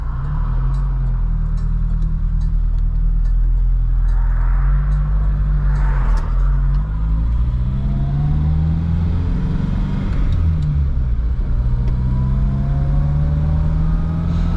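A 1971 Vauxhall Firenza engine idles steadily and loudly close by, a deep rumbling throb with slight rises and falls and a faint rattle, no voices.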